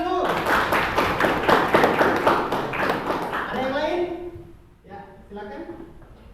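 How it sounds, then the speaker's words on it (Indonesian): A classroom of students claps in a lively burst for about four seconds, then the clapping fades as voices speak over it. "Tepuk tangan dulu."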